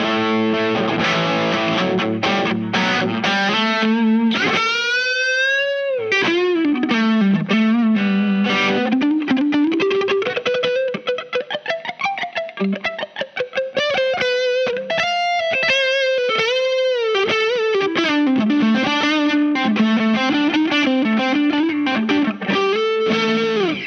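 Electric guitar through a Chase Bliss and Analogman Brothers AM drive pedal on channel 1, playing sliding, bending lead lines and quick runs with a saturated, overdriven tone, steady and loud without speech.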